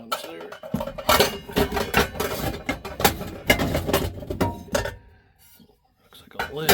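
Pans and other kitchenware clank and rattle as they are pulled from under the sink while a pickup camper is cleared out; the close metallic clatter comes in irregular bursts and pauses briefly near the end.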